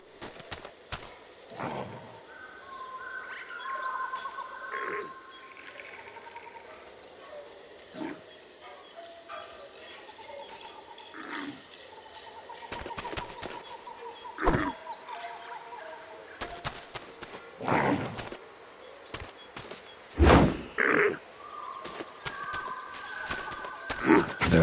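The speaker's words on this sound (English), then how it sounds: "The hoots came from inside the bug farm, along with a stench of pond scum and villainy" Hooting calls from a bug farm in the Tails of Iron 2: Whiskers of Winter game, repeated tonal hoots rising and falling amid scattered sharp thumps and game effects, moderately loud.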